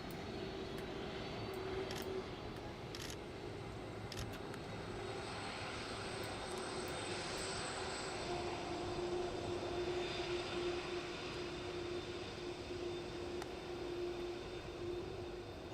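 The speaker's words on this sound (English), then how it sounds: "there's something very special about this monster, the C5 Galaxy." Faint, steady engine drone and hum of a C-5 Galaxy transport aircraft in Flight Simulator 2024, continuous and distant-sounding with a faint tonal whine, no talk.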